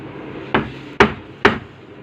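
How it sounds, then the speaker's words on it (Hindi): Three sharp hammer blows, roughly evenly spaced and close, knocking loose a part of a ceiling fan that keeps stopping while running; each strike is a loud percussive thwack with no talking. "नहीं निकल रही है तो फिर हमें हथौड़ी का इस्तेमाल करना है इस प्रकार से"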